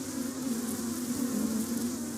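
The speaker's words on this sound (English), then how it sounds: "The bees are all around now." Honeybees swarm around a hive in summer, a steady close droning buzz that fills the air without pause and with no talking.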